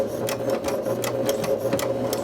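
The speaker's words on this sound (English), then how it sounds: "Your needle is down. Again, do just a little back stitching." A sewing machine runs in short bursts of rapid needle strokes, back stitching to tack down a fabric needle tag, close and steady with a low motor hum.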